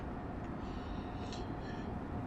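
Steady, loud rumble of a train running at full throttle in the video game Train Sim World, a continuous engine and rail drone with faint high whines over it, no talking.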